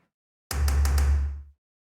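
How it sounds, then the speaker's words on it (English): A single black metal kick drum is caught through a room mic, a booming low hit that rings out with a thick, muddy low tail for about a second before cutting off cleanly. "I also included the room mic that was recorded for that black metal kick, which sounds like this."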